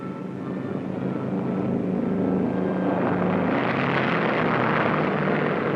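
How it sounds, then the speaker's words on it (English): A B-29 bomber carrying the X-1 aircraft takes off, its piston propeller engines roaring loud and steady throughout, building slightly in a broad rumbling drone with no talk. "After many months of planning, testing, and preparation, the X-1 becomes airborne on its first attempt to exceed the speed of sound."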